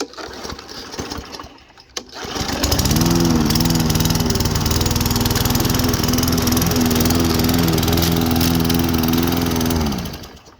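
A Pattfield PE-EV 1231 electric lawn scarifier, set to its lowest position for gathering grass, spins up after a couple of seconds and runs loud and steady, a close, constant whirring drone that winds down at the end.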